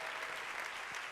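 Audience applause at the Global Climate Action Summit for young people from an environmental jobs group, a steady, dense wash of clapping from a large crowd filling the whole moment.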